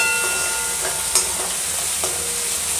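Chopped onions and green chillies frying in a pan for masala bhindi, a continuous close sizzle broken by a few spatula scrapes and taps.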